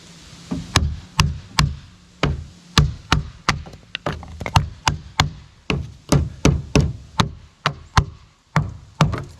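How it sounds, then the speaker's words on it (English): Hammer blows on a chisel knocking out a notch in a log for an outdoor kitchen build, a run of about twenty sharp, woody knocks in an uneven rhythm, loud and close with no voices. "we need a hammer and chisel. We get to do the satisfying part of knocking these out"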